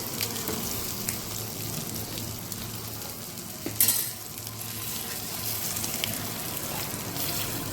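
Eggs fry in a hot pan for an egg masala with a steady, close sizzle and crackle throughout, broken by a brief clatter midway; no one speaks.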